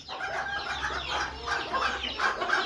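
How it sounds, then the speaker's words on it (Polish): A hen and a rooster cluck softly and continuously nearby in a farmyard setting, a low steady stream of murmuring calls with no talk. "Tą tutaj kurę, czarną, tą grubą i tego naszego koguta."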